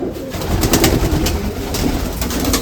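Racing pigeons in a breeding loft coo in overlapping low, throaty rolls, close and fairly loud, with a constant busy murmur of birds throughout.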